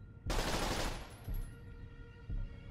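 Dahl pistol bursts in Borderlands The Pre-Sequel strike a wall, a dense opening volley followed by two shorter bursts about a second apart, loud and close with no voices.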